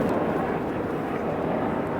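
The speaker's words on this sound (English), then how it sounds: "Maybe we'll wait for those helicopters." Helicopters flying overhead at an outdoor vaccination site at Greenbelt Metro Station, a loud, steady low rotor and engine rumble that fills the moment.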